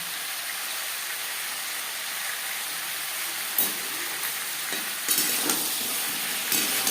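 Spinach and vegetables with ginger paste and green chili paste being stirred in a frying pan, a steady broad sizzle and hiss throughout with a few sharp scraping clatters of the spoon, close and moderately loud, no talk.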